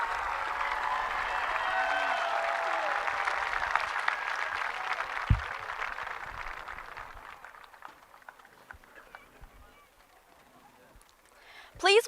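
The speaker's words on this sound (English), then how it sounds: "Let's give these scholarship recipients a big round of applause" A graduation audience applauds scholarship recipients at a 2024 high school ceremony: sustained, loud crowd clapping that slowly thins and fades over about ten seconds, ending with a brief sharp sound.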